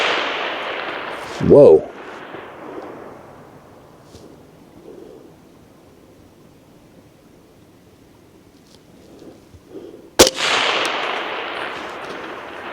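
Two suppressed shots from a 6mm Creedmoor AR-10 rifle aimed at a steel plate, sharp cracks about nine seconds apart outdoors, the second followed by a noisy rush. A voice exclaims briefly between them.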